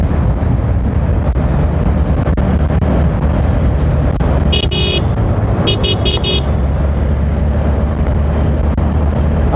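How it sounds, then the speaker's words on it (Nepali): Strong wind buffets the microphone on a moving motorbike, a loud, constant low roar throughout, with a few short horn-like beeps in the middle. "यस्तो डेन्जर हावा लगाइरहेको छ"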